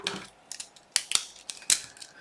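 Scissors snipping paper being cut to wrap a book, a handful of crisp, separate snips and slicing sounds in quick irregular succession, close and fairly quiet.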